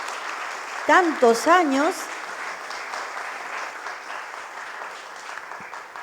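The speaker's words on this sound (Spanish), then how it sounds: "vamos a brindar cálidos aplausos a la autora" Audience applauding a book author about coffee rituals and cup origami at a presentation, a continuous soft spatter of clapping from a crowd, with someone speaking briefly over it early on.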